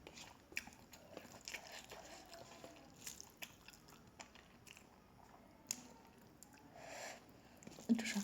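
Close, soft chewing of rice mixed with fish and meat curry, with irregular wet smacks and light crunches in a quiet room.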